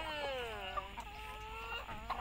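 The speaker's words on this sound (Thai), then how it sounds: "น้องไก่เยอะมากๆเลยนะคะ" Chickens at a cafe farm clucking and calling close by, with overlapping drawn-out crows and short clucks against a low background hum.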